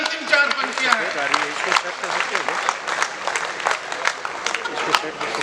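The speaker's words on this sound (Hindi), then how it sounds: "जोरदार ताली बजाओ" Applause from an audience at a comedy and poetry stage show, a lively burst of many hands clapping with sharp individual claps standing out, alongside a voice speaking over it.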